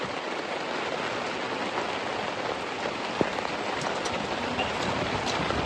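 Heavy rain falling steadily outdoors, a dense continuous hiss and patter with a faint knock or two, no talk.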